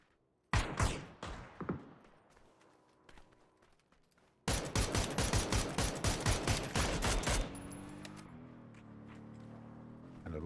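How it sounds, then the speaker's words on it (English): Gunfire in the video game PUBG during a pro scrim match: a few scattered shots, then a rapid volley of loud, closely spaced shots that trails off into quieter ambience. "And a lot of shooting."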